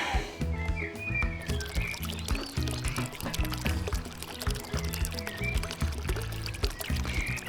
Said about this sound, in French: Donc, on remplit le bocal.